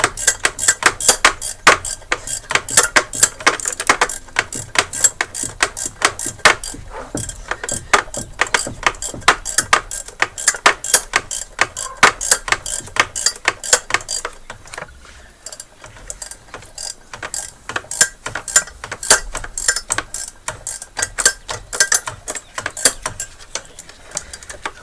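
Rapid, steady ratcheting clicks from a wrench loosening a bolt while repairing a Talon car, a close, continuous run of metallic ticks with a short pause midway before the clicking resumes.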